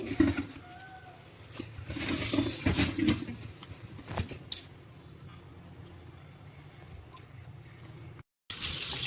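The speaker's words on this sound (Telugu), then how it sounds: "ఇట్లా వైట్గా వాటర్ వచ్చేదాకా కడుక్కున్నామంటే చాలా బాగా క్లీన్ అయిపోతాయండి" Water splashes and patters in a sink as fish pieces are rinsed by hand, busy at first then quieter, with birds faintly in the background.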